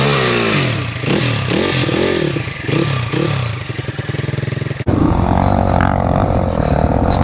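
Motorbikes starting and revving for a group ride, with repeated throttle blips rising and falling close by, mechanical clatter, then a louder sustained engine roar taking over near the end.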